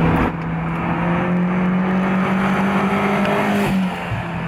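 A car pulls away on a test ride, its engine droning steadily and close with a rising note, continuous throughout with no talking.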